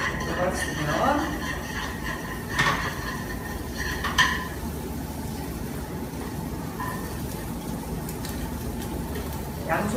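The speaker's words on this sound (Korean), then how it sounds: "버터를 좀 넣어서 나머지 채소를 볶아주도록 하겠습니다" Bacon and vegetables stir-frying in butter in a pan for a Spanish omelette, with a soft steady sizzle and a few sharp utensil clinks against the pan while a person talks throughout.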